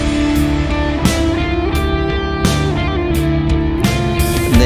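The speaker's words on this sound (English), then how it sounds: "So the main lead guitar comes in and plays the motif which was introduced originally by the French horns at the beginning." Lead guitar carries a melodic motif over a full video game music arrangement first stated by French horns, with sustained dense harmony and periodic bright accents, loud and continuous, no voices.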